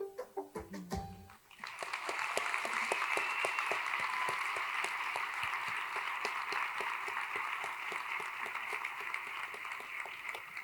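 Audience applause at a school district celebration, sustained and fairly distant clapping after a few brief words.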